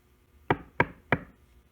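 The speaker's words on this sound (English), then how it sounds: "he heard the big bad shark knocking at the door" Three firm knocks on a door, evenly spaced and close, sharp and clear against a quiet background.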